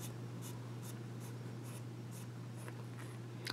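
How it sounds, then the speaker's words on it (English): Barrel of a Jim Hinze Beacon fountain pen being unscrewed, giving a faint, steady series of short scratchy rasps about every half second over a low hum, ending in a slightly sharper click. "So let's unscrew the barrel section and show you what's inside."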